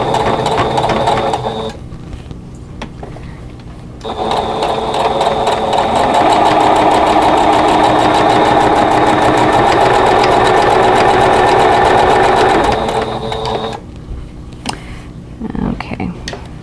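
A sewing machine stitches a fabric table runner with the needle set to stop down in the fabric, a steady running whir broken by short pauses near the start and end, close and loud, with speech over the quieter stretches.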